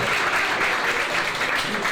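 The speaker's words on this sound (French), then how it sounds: "Bon applaudissements." An audience claps steadily at a careers fair presentation, a dense continuous wash of applause filling the room without pause.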